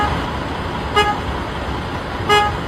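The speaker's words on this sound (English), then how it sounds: "They're blowing their horn at the bus that's parked at a bus stop." A car horn honks twice at a city bus parked at a bus stop, two short toots about a second apart over steady traffic rumble.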